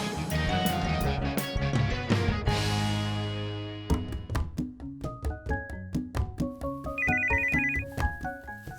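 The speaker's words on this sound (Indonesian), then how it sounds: "Mak, handphonenya bunyi tuh." A mobile phone plays a melodic ringtone, a run of bright repeated notes that keeps going on its own, close and fairly loud, with no talk over it.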